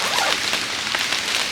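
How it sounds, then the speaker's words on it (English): Rain dripping off a canopy outdoors just after a shower, a steady, dense, close patter of drops filling the whole stretch. "Got a little bit of rain falling from what's on the canopy"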